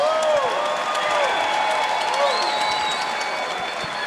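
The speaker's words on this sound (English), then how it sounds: "let's have a round of applause for these two warriors" Crowd applauding and cheering at a Bare Knuckle Fighting Championship event after a five-round championship bout, steady dense clapping throughout with a few voices and whistles rising over it.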